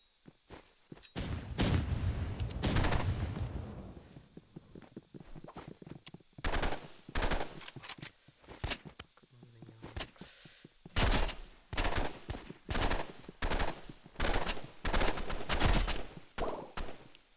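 Video game gunfire crackling in rapid automatic bursts separated by short pauses, sharp and fairly close, with no talking over it.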